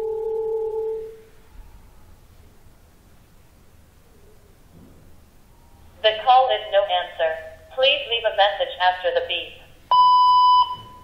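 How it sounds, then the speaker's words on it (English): A smart Wi-Fi video doorbell intercom gives a single steady electronic voicemail beep, loud and clean, near the end after a spoken prompt and a short pause, with speech beforehand. "Please leave message after the beep."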